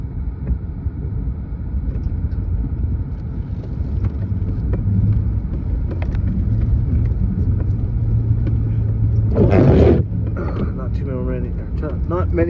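A Ford Super Duty truck rumbles steadily over snowy speed bumps on a trail, a low engine drone throughout with a brief burst of louder noise near the end.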